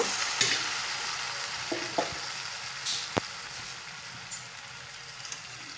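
Malabar spinach and fish head being stirred in a pan, a steady soft sizzle with a few sharp scraping clicks of the spoon against the pan, close and alone.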